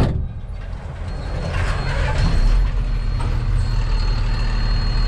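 A Hyva truck creeps slowly forward with a low rumbling engine that swells gradually, close and steady with no voices.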